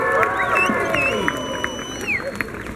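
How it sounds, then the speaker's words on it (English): Crowd at Universal Studios Grinchmas cheering and applauding for Los Angeles: a lively mix of whoops, claps and excited babble, loud and close, with voices blending throughout. "Let's give Los Angeles a round of applause."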